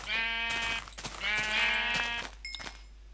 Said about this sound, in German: das sind noch 2 weiße Schafe